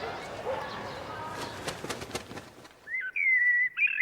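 Bird calls in a video game trailer shown at the Game Awards: soft cooing and chirps under music, then a clear, loud whistled bird song near the end.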